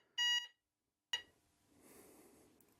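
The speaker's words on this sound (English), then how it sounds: "when you close the front door, it goes back to this beep. The system will set in 30 seconds." A Veritas 8 security alarm system gives a short, loud electronic exit beep while it is being set. A second brief beep follows after a pause, then quiet room noise and faint rustling, with no talking.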